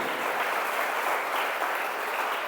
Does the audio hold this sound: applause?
yes